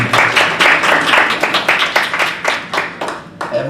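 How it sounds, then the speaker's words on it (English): A small group claps during a VTuber agency panel chat, a steady run of dense hand claps close to the mic with no talking over it. "Thanks for the clap."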